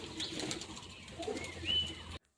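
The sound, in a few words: pigeons flapping wings in flight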